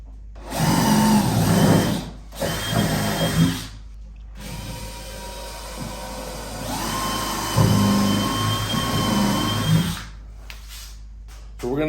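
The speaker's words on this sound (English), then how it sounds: "We'll go ahead now and finish drilling this hole through the bed." A power drill whirs in several bursts drilling a hole through the metal bed of a Cushman Hauler Pro golf cart, starting and stopping with short pauses, loud and close, the motor pitch shifting as it bites through material.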